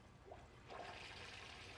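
A toilet flushes in Fallout 76, a faint rushing swirl of water that swells after a brief click and keeps running steadily on its own.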